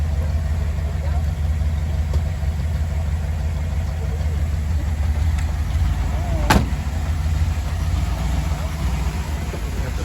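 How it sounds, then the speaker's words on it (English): 1957 Ford Thunderbird engine running steadily during a test drive, a constant low rumble heard from inside the car, with one brief sharp knock midway. "So we're going for a test drive now."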